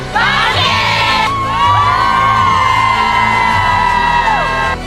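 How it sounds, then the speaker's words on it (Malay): A large indoor crowd in a hall shouts and cheers together in a loud, sustained roar, with high whoops and yells layered over rhythmic low thumping throughout. "dengar laungan bangkit beramai-ramai sambut laungan Star Warrior"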